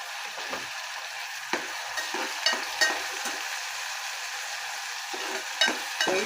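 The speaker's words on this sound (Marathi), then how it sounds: "ते छान मी तेलामध्ये परतून घेणार आहे।" Tomato paste and onions frying in oil, with a soft continuous sizzle broken by repeated scraping stirs at an uneven pace, close by and with no talk.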